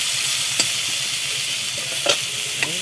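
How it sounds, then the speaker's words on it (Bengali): Potatoes and pointed gourd fry in a pan with a constant close sizzle, broken by a few brief scraping and clinking stirs of a spatula. "এই যে দেখুন আলু আর পটলটা ভাজা হচ্ছে, সেটা ভালো করে ভেজে নিতে হবে"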